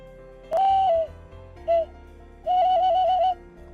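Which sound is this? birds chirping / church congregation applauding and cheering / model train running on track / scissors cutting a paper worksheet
birds chirping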